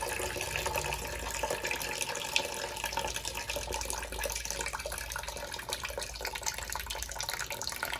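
Water rushes steadily out of a long buried conduit pipe running downhill from a garage build site, a continuous hissing, splashing flow that stays even and close throughout with no voices.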